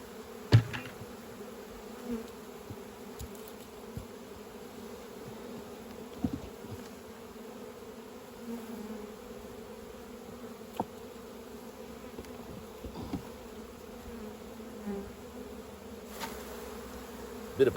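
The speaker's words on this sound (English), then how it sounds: "Shake these bees in." Honey bees buzz steadily as they are shaken from frames into a nucleus hive, a faint, continuous droning hum with soft knocks and bumps now and then, close by and without talk.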